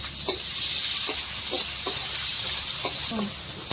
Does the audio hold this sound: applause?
no